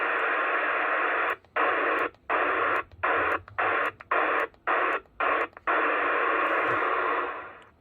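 A distant station comes through a Retevis MB3B AM/FM CB radio as a loud, steady wash of static. The hiss cuts out in a series of short, rapid gaps, with no clear voice emerging.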